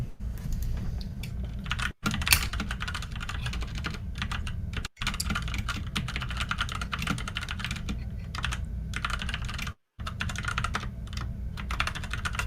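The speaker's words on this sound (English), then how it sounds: "I can hear you typing away." Steady, rapid clicking of keys on a computer keyboard, continuous for several seconds with a few brief pauses, close up and fairly quiet.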